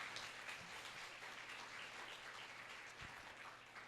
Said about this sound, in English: So another round of applause for Angelica.